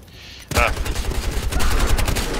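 Gunfire from a sniper rifle and other weapons in Battlefield Hardline erupts after a quiet start, with loud sharp shots and bursts continuing to the end.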